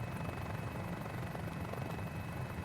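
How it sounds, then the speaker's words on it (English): A stable helicopter in a flight simulator game gives a steady, continuous rotor and engine drone, with an even rumbling hum and no talk. "And she's a very stable helicopter."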